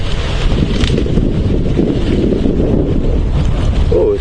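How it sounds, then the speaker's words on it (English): A strong, warm berg wind blowing almost from the northeast during an afternoon safari drive at Djuma Game Reserve, loud continuous buffeting roar battering the microphone throughout. "Oh, it's quite a strong wind picking up. It's a berg wind."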